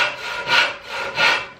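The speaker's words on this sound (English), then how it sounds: "So what I'm gonna do is I'm gonna keep sawing," A hand saw cuts through a wooden workpiece in a simple beginner woodworking project, with about two and a half slow, rasping strokes swelling and fading in a steady back-and-forth rhythm.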